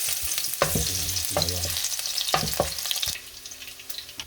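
Sardines sauté in a hot pan, crackling and sizzling up close while a utensil scrapes and clatters against the metal in quick bursts, with no voices, and the frying settles into a quieter hiss near the end.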